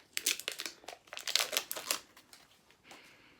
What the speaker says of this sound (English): So there's the foil here, which you take off.